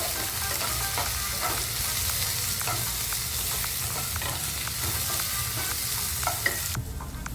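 Chopped onion and ginger garlic paste are sautéed in hot oil for a creamy North Indian chicken curry gravy. A close, steady sizzle runs throughout with light, regular clinks of a stirring spoon against the pan.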